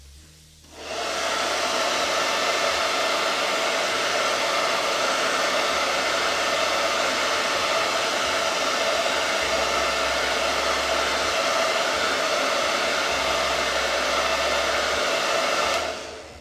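A hair dryer blows on chalk paint on Halloween decor, switching on after a moment and then holding a loud, steady whoosh for about fifteen seconds before cutting off, with no talk.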